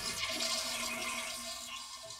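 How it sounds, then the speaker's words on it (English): A toilet flushes, water rushing out of the emptying tank in a steady, close, continuous wash of sound with no talking. "when you flush it, the water comes running out"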